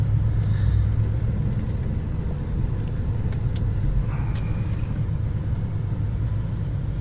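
A car pulls away and drives off, its low engine rumble and road noise steady and close from start to finish, with a faint light clatter in the middle and no talking.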